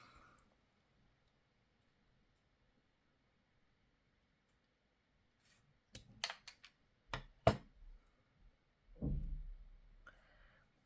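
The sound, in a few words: scissors cutting paper for a junk journal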